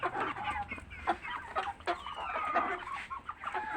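Chickens cluck and murmur steadily nearby on a home farm also keeping pigeons, geese and ducks, several birds overlapping in short, throaty calls with no one talking.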